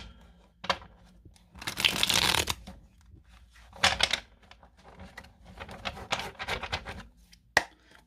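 Oracle cards are shuffled by hand in several rapid riffling bursts, close and crisp, separated by brief pauses and softer card handling.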